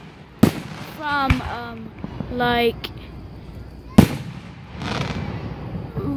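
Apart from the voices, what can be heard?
fireworks going off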